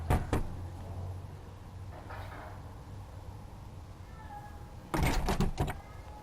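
Knocks land on a door in a home where a highly aroused, aggressive cat is present. There are two sharp raps at the start, a quieter stretch, then a louder burst of clattering, rattling sounds near the end.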